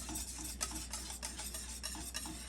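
A spoon stirs food around a hot pan just after the heat is cut, with soft scraping strokes and faint sizzling, quiet and close, no talk.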